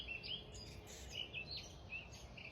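Several small birds chirp and call in the cool early morning of a hot summer, with short bright tweets repeating over a soft, steady outdoor hush.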